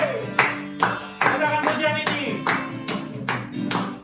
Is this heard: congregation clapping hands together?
yes